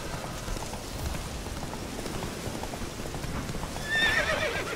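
A horse trots with clip-clop hoofbeats through a steady rainy wash in The Witcher 3, with a brief whinny near the end; no voices.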